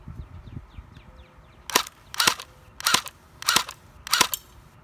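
An HK MP7 airsoft gun fires five single shots at targets in a steady, evenly spaced sequence of sharp, loud cracks, with no talking.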